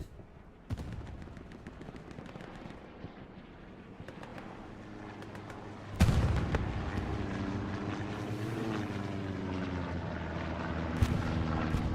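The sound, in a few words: distant rocket explosion in video game Hell Let Loose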